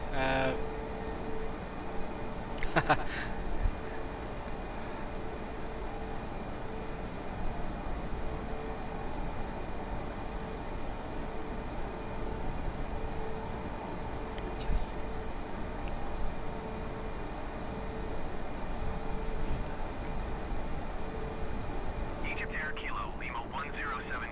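Airbus A320neo cruising in Microsoft Flight Simulator on an Amsterdam to Manchester flight: a constant broadband cabin and engine hum with a faint steady tone, and a few brief clicks.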